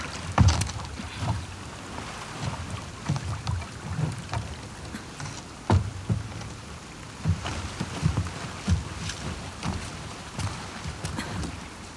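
Rain falls in The Last of Us Part II, a soft steady patter broken by scattered louder splashes and knocks, moderately faint with no speech.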